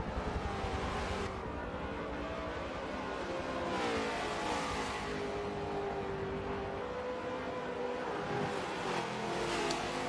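Supercars race cars roar through a video game race, engines droning steadily with rising and falling revs as cars pass close by, loud and continuous without speech.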